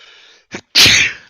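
A single sharp sneeze bursts out close to the microphone during a tabletop roleplaying game session, preceded by a short sharp intake and a brief faint murmur.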